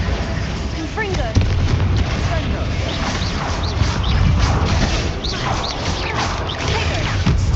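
Bombarda and Confringo explosion spells blasting in Hogwarts Legacy, with dense rumbling bursts over continuous game music and ambience, loud and steady throughout, with whistling and magical sweeps scattered across.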